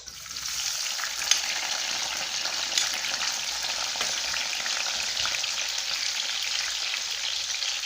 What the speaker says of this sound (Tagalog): dahil mainit na yung mantika guys, gagawin natin, lalagay natin yung ating sibuyas